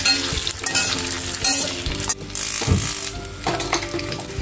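Flattened rice (poha) being stirred into spiced oil with red chilli powder in a pan after the heat is off, giving a close, steady scraping and rustling stir with soft sizzling underneath.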